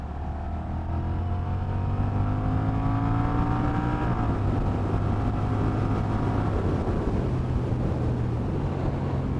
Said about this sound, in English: When you rev it out, it sounds great.